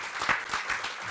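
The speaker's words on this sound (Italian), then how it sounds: "Facciamogli un applauso." Brief burst of audience applause at an exhibition opening honoring Giorgio Moiso at the Fortezza del Priamar in Savona, steady dense clapping filling the short moment without speech.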